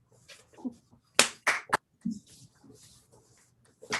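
Audience applause after a live book reading of the novel Infinite Country, scattered bursts of hand clapping rising and fading over a few seconds in a quiet room.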